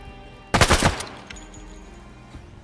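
Gunfire from a weapon in the video game Escape from Tarkov, a loud, rapid burst of several close shots lasting about half a second, followed by a faint echo and quieter background.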